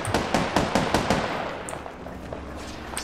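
Automatic gunfire in the video game Apex Legends, a loud burst of rapid shots that tapers into fainter scattered shots and impacts, with no talking.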